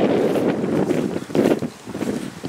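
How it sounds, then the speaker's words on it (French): Strong gusts buffet an outdoor microphone on a livestock farm after a storm, a loud, continuous low rumble that swells and dips without any talking. "Je sais pas du tout si le micro coupe un peu le vent."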